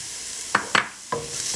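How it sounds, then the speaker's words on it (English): Mushrooms, tomatoes and green peppers sautéing in a pan for a veggie omelet, a soft steady sizzle punctuated by three quick scraping stirs, close and unaccompanied by voices. "You're going to lightly saute it."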